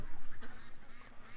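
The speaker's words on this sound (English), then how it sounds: "I got black ducks coming up here." Black ducks quack in a short burst of harsh calls at moderate distance, with a faint rumble of outdoor background noise.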